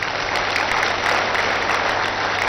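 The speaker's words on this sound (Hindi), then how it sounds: "जरा इसके लिए जोरदार तालियां हो जाएं" A crowd at a yoga camp for diabetes and obesity claps loudly in sustained applause, a dense, even roar of many hands with no pauses.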